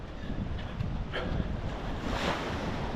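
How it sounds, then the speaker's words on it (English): Wind rushes and buffets steadily against the microphone during the Nice–Cannes marathon, a continuous roaring wash with soft swells and no voices. "Having a real struggle now with the wind."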